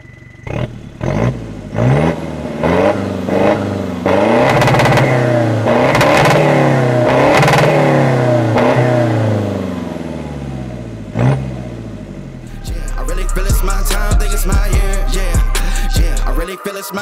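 A Toyota Kijang Innova engine revs repeatedly through a full BRD exhaust system run from the downpipe, a loud throaty rise and fall in several bursts, then a sustained high roar near the end.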